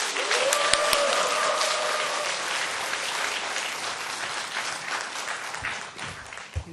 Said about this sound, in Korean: 우리 나오실 때 마음으로 환영하는 뜻에서 뜨거운 박수로 맞이하겠습니다.